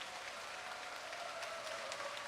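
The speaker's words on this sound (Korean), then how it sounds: "다시 한번 큰 박수 부탁드립니다." A church summer revival audience breaks into steady, sustained applause that fills the hall, with no voices standing out over the clapping.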